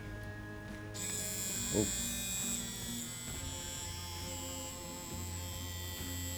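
A wireless tattoo machine switching on, then running with a steady high electric buzz close by, with a brief spoken exclamation near the start.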